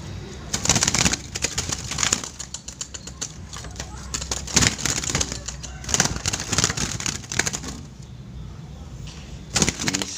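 A zebra dove (perkutut) coos in rhythmic high-pitched short phrases, fairly close, over steady background noise and intermittent speech.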